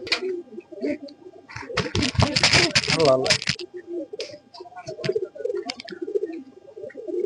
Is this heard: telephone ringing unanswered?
no